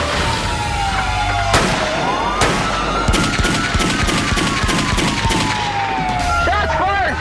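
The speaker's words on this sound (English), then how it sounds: "Shots fired! Shots fired!" Dense bursts of gunfire from a police shootout with a suspect, loud rapid volleys of cracking shots over a siren-like wail and chaotic background noise.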